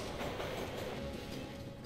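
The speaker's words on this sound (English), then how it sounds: "we're on a speeding train" A speeding train rumbles steadily in the game Metro Last Light, a continuous low rolling roar with faint rhythmic rail clatter and a thin high tone running through.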